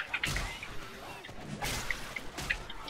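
Melee weapon swings in Left 4 Dead 2, three quick whooshing strikes spaced about a second apart, each a sharp broadband swish with impact, over steady in-game background noise.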